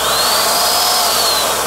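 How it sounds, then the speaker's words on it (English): Blower of a Yattich paint sprayer running: loud, close, steady airy roar with a faint rising and falling whine, continuous throughout the short clip, no talking. "So when you depress the trigger, it kicks on the blower"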